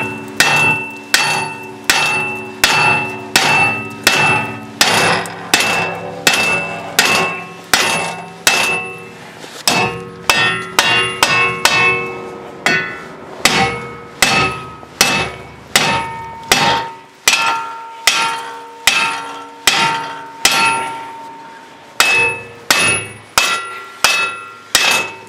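Repeated loud metallic hammer blows ring out in a steady rhythm, dozens of clanging strikes up close on a 2008 Nissan Armada wheel hub, with brief pauses between runs.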